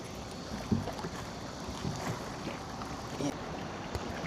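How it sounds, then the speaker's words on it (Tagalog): Strong wind blows over open water during an after-work fishing trip for kurog, a faint, steady broadband rush with light buffeting on the microphone, and a few soft knocks and splashes underneath. "Malakas po yung hangin ngayon."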